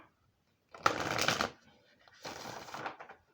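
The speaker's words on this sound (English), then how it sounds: "shuffle these cards." Tarot cards are riffled in two brisk shuffling bursts, close and crisp, with a short quiet pause between them.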